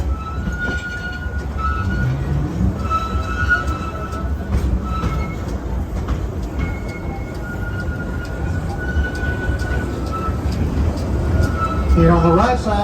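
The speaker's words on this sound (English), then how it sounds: "We are now into the runaway mine train area, built here in 1966." Runaway Mine Train roller coaster from 1966, 2,500 feet of track at 35 mph at Six Flags Over Texas, rumbling steadily along its track with squeals and rattles, a nearby voice talking over it throughout.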